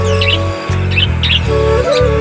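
Pet cockatiels, budgerigars, doves and lovebirds kept together call in repeated short chirps and squawks, close and fairly loud over a steady hum, with no talking.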